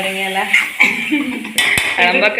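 A spoon clinks and scrapes against a pan while Kerala-style clam roast is stirred, a few close, bright metallic knocks and rattles with no talking.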